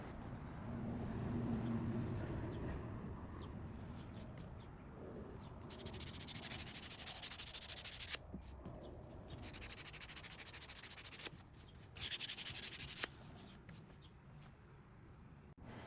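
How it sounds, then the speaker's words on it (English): A painted furniture piece is sanded by hand: continuous gritty rubbing strokes, close and fairly quiet, with a few brief louder bursts and short gaps. "I sanded it a little bit more and just called it good."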